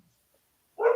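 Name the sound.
Australian cattle dog (blue heeler) barking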